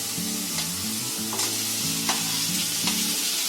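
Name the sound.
tomatoes frying in a pan with fried vegetables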